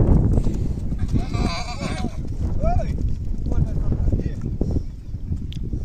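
Sheep bleat in brief calls while being rounded up on a farm, with a cow and a foal nearby, over rustling, trampling and people talking close by.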